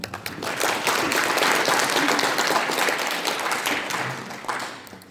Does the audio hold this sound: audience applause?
yes